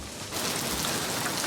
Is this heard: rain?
yes